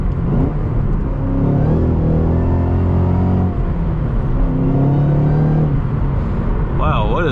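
A 2014 Ford Shelby GT500 with stock exhaust and supercharger accelerates in a loud, continuous engine rumble that rises and shifts pitch over several seconds, with a whine climbing near the end.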